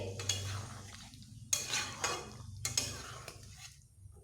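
A spoon stirring and mixing a soft paneer vegetarian dish in a pan, a few distinct scraping strokes with soft clatter against the metal and a faint sizzle between them.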